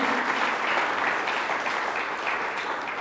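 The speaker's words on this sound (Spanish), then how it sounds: "Le damos una ofrenda de palmas al Señor" A church congregation claps together as an offering of praise during a Spanish-language service, a steady, even wash of many hands at moderate volume with no break.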